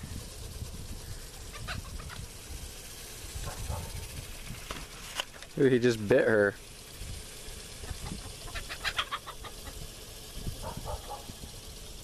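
Backyard chickens cluck softly around a rooster in an outdoor coop, with one brief loud squawking burst midway, while a person talks over the scene.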